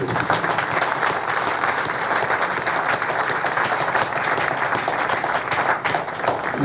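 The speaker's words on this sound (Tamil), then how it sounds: "வடிவேல் காமெடிக்கும் கைத்தட்டு, நான் பேசினாலும் கைத்தட்டு" Sustained audience applause at a public speech, dense steady clapping from a large crowd filling the space with no pauses.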